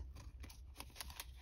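Paper for a junk journal being trimmed with cheap scissors, producing a run of quick, soft snips at close range against a faint low hum.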